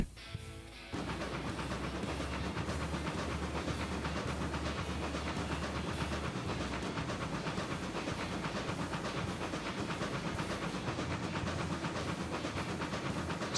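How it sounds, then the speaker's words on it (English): A steam train in the Railroads Online game gives off a broad, steady hiss with rolling rail rumble and clatter as it brakes, loud and unbroken after a brief quieter start. "we can safely brake the train"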